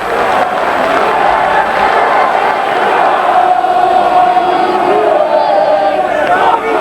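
Packed crowd of 8,000 at the tiny Agborough football ground, a loud, dense roar of voices and chanting filling the air steadily throughout, with no clear individual speech.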